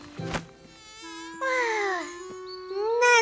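Cartoon flies buzz in high, whining sweeps that rise and fall, loud and close, in several overlapping bursts across a few seconds, with no speech.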